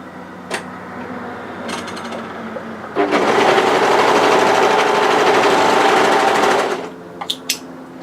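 A sewing machine, probably an overlocker, runs a steady, close, loud whirring stitch for about four seconds while sewing a knit cardigan band. A few soft clicks and handling sounds come before and after.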